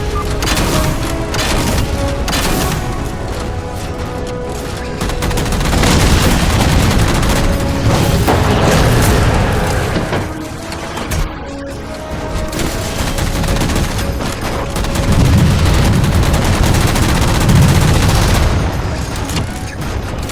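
Halo 4 on Xbox 360: loud, dense in-game gunfire blasts at jammers in bursts of rapid shots and booms, layered over a continuous battle din with no pause.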